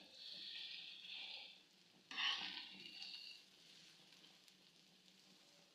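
An omelette sizzles softly in a pan over low heat, a faint steady frying hiss that fades and swells, with a brief louder crackle in the middle.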